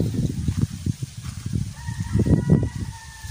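Chickens cluck and call close by over ground-level scratching noises, with a longer drawn-out crowing note near the end.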